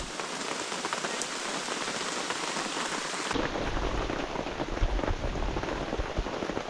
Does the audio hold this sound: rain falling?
yes